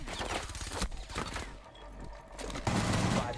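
Gunfire in the video game Rainbow Six Siege, bursts of rapid shots in quick succession with a short lull, then a loud sustained volley.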